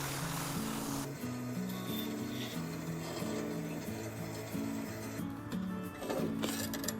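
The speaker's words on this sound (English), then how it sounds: "here's me just cleaning out the rest of that groove" A bandsaw clears out a groove in a wooden wheel chock, its motor humming in a steady tone while the blade works the wood with repeated rasping passes, close and moderately loud, with no speech.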